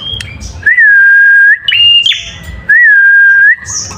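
A perenjak (prinia) bird chirps close and loud, with long sustained whistled notes in two main bursts broken by short sharp calls. No one speaks.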